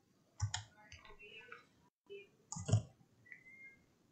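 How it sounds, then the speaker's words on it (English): Computer mouse clicks come in small sharp bunches during work in DesignSpark Mechanical CAD software, quiet and close, with brief gaps of near silence between them. "and then you can right mouse click on it"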